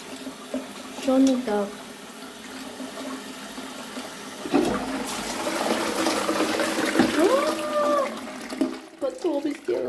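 Toilet flushing and tap water running in a home bathroom during a plumbing mishap, steady rushing water under a woman's intermittent speech, with a rising gurgle near the end.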